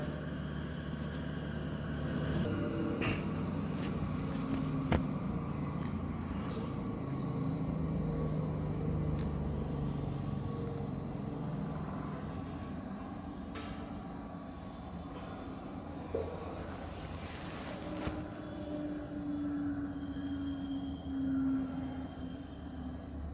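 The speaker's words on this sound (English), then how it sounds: "The centrifuge machine rotating" A laboratory centrifuge in a chemistry practical spins steadily, giving off a continuous low hum with a faint whine that holds constant throughout, with no talking.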